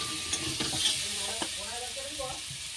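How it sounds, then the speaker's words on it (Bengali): Pumpkin and potato frying in a wok while being stirred, a steady close sizzle with scraping stir strokes and small clinks throughout, no voices. "কুমড়ো আর আলু বেশ ভালো করেই ভাজা হয়ে গিয়েছে।"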